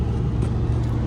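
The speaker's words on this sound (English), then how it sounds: "I'm tempted to just rev it." A built 1.8T car engine rumbles steadily at close range, a low sustained growl with a brief swell in revs, heard alone without talk.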